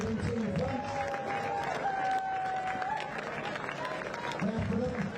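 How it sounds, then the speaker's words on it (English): Crowd applause and cheering at a touch rugby European Championships match, sustained clapping with crowd chatter throughout, with a voice speaking over it at times. "give a round of applause to France."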